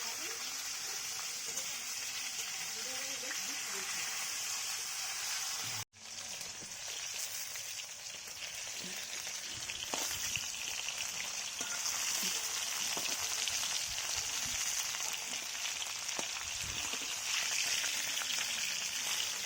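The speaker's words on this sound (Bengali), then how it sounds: "দেখতে পাচ্ছেন সুন্দর করে ভাজা হয়ে গেছে ঢ্যাঁড়সগুলো" Okra frying in a pan in a small home kitchen, a steady dense sizzle that runs the whole time, briefly cut off once and then resuming slightly louder.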